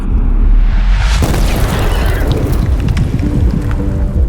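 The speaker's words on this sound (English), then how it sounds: "Suddenly a cannon hits his horse head-on." A cannon shot hits with a sudden heavy boom, then a rumbling roar trails off over a few seconds, loud and close.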